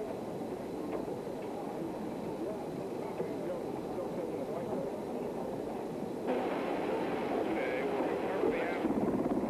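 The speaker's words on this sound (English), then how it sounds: "It's just the downdraft and spray from the helicopter rotors whipping things up." A helicopter hovers low over calm sea during an Apollo 15 splashdown recovery in 1971, its rotor downdraft whipping up spray; a steady broadband roar rumbles throughout and swells louder near the end, with a broadcaster talking over it.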